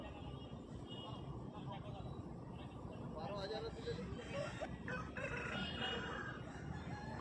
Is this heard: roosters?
yes